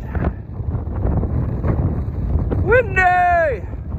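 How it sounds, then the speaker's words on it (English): Steady wind roars across an open microphone on a mountain summit after a ridge scramble, a dense low rumble throughout, with a voice calling out an excited exclamation near the end. "Windy!"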